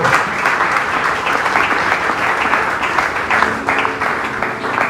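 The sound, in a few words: congregation applause in church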